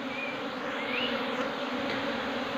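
A dense swarm of honey bees hums close by around a hive box, a steady buzzing drone that never lets up, with no voices.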